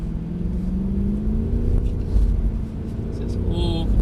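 A Mercedes car engine builds as power is applied on a driving track, a low rising drone heard from inside the cabin, with a voice speaking over it.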